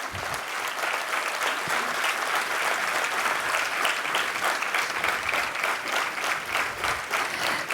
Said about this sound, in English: Let us all encourage them with a huge round of applause